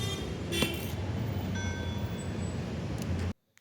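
Container trucks pass on the road nearby with a steady, loud roadway rumble and a brief horn-like toot, before the sound cuts off abruptly at the end.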